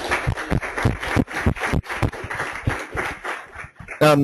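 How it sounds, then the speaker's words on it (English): A seminar audience claps after a talk on sustainable energy economics, irregular hand claps from a modest crowd close to the microphone, with a brief voice breaking in at the end. "All right, let's give Steve a round of applause."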